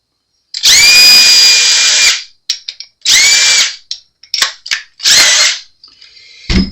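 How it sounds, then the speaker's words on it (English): A power drill bores out the tuner holes on an Ibanez Gio bass headstock to fit new tuner bushings, heard as three loud whining bursts of about 1.5 seconds each, separated by short clicks and brief taps. "We have to bore these holes out to accept the bushing on the new tuners."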